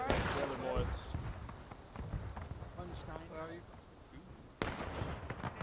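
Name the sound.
gunfire in the video game War of Rights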